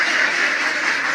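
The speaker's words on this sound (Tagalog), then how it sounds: "Tanawa perting daghan ang itik sa loyo nako ba." A large flock of F1 ducks on a Cebu balut farm quacks continuously, a dense overlapping chorus heard close and fairly loud with no voices.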